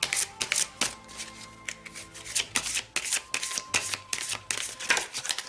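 Tarot cards being shuffled by hand for a reading: repeated quick riffling bursts of card stock, close and fairly quiet, continuing steadily throughout with no talking.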